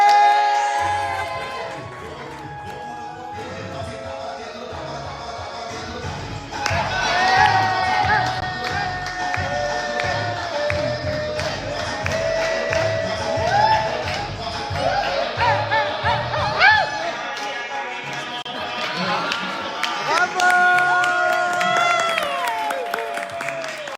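A studio audience at a Met Gala–themed show claps and cheers for Wesley. The applause is lively and mixed with shouts and excited voices, rising and falling over about twenty seconds while music plays underneath.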